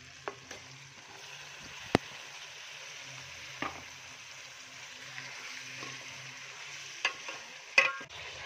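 Chicken and tomatoes fry in a pot for biryani with a faint, low sizzle, broken by a few sharp clinks and scrapes of a spoon against the pot.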